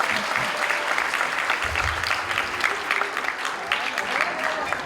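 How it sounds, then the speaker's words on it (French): An audience claps for a performer's show at a December community gathering, steady dense applause throughout, loud and sustained with no break. "On peut l'applaudir pour son spectacle."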